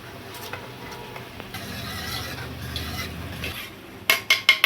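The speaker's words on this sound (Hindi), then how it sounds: "अब देखिए सांभर पाउडर के अंदर थोड़ा पानी डाल करके इसको अच्छे से मिक्स कर लेंगे।" A spoon steadily stirs and scrapes a thick paste of sambar powder and water in a small bowl, ending with three sharp metallic clinks against the rim.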